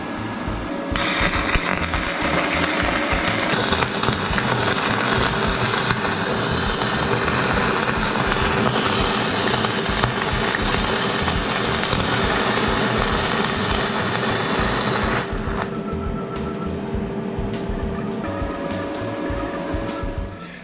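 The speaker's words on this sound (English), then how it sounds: "let's go weld" Flux-core wire-feed welding outdoors, a steady loud crackling buzz that runs continuously for about fifteen seconds, then drops to quieter mechanical rumble and clicks near the end.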